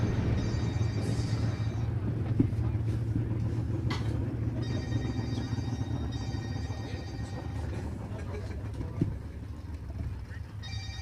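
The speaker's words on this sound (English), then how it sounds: "Yeah, so my phone's going off." A mobile phone rings repeatedly over a rumbling background of cars and engines at a street drag racing challenge, the ring tone fairly faint and steady with no talk.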